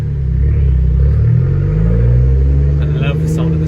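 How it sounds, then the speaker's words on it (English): A car engine rumbles and revs up close, with a loud, steady low growl that rises and falls slightly; voices can also be heard over the engine noise. "I love the sound of this car."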